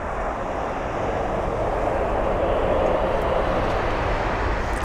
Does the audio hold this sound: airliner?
yes